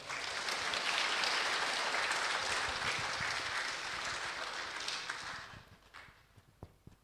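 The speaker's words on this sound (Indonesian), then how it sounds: "Kita berikan tepuk tangan yang meriah." Audience applause after an opening address at a Catholic lecture event, a dense steady clatter of many hands that holds strong for about five seconds, then thins to a few scattered claps before fading.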